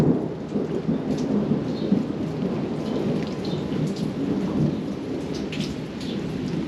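A thunderstorm rolls on throughout, heavy rain drumming steadily on surfaces with low rumbles of thunder and scattered drip impacts, fairly loud and continuous, no voices.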